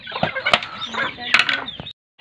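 Native chickens cluck and squawk in short bursts while being fed, with a few wing flaps and sharp calls close by before a brief silence at the end.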